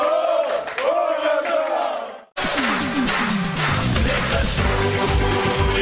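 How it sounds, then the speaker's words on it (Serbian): Football fans of FK Jagodina greet the team's arrival at the hotel after the match. A voice is heard first, then a sudden burst of loud, close crowd chanting and cheering takes over. "dolazak ekipe u hotel uveličili su navijači fantastičnim dočekom i ovacijama"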